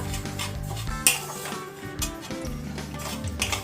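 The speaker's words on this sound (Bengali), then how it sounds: "তো আমরা এটাকে একটু এটা একটু ড্রাই রোস্ট মতো হবে।" Broken wheat (daliya) dry roasting in a pan, stirred with a utensil that clinks and scrapes against the metal, close and moderately loud, with no sizzle of oil.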